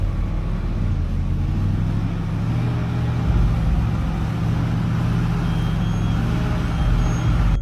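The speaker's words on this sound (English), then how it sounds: "The ZIL 131 monster truck is built for extreme off-road adventures." A ZIL 131 truck drives off-road through mud; its heavy engine gives a steady, loud, low rumble that holds for several seconds with no talking.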